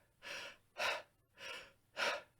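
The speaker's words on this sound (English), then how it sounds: "when I was breathing that shallow way, my chest was rising and falling" Four shallow chest breaths in a steady rhythm, two slower inhales alternating with sharper exhales, close and breathy, about one breath every half second with no talking.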